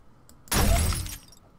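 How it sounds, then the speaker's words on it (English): Glass shatters in the survival video game 7 Days to Die, a single loud burst of breaking and tinkling shards lasting under a second, with no talk over it. "Oh, that was glass there."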